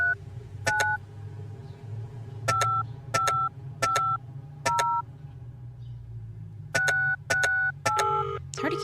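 Telephone keypad dialing tones in the Penelope Pendrick video game, a series of short two-tone beeps in irregular groups, one, then several in quick succession, over a low steady hum.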